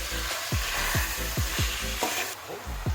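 Tomatoes, onions and broad beans cook in a pan with a loud, steady sizzle throughout. Repeated spoon-stirring scrapes cut through it at a regular, close-up rhythm.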